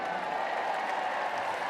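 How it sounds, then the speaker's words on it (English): A crowd at a dog agility show cheers and applauds for a birthday, producing a continuous wash of clapping and cheering that sounds moderately distant. "shall we give her a cheer?"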